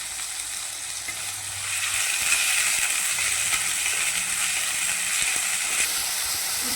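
Brinjal frying in oil in a pan, a steady, close sizzling hiss that swells slightly after the first couple of seconds and carries on evenly, with faint stirring clicks and no voices.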